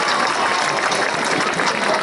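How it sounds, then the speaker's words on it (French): A crowd applauds steadily at the opening ceremony of a sports tournament in Dirinon, France, a dense, continuous wash of clapping with no pauses. "on applaudit très fort aussi"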